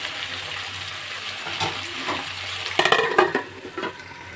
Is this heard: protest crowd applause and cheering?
no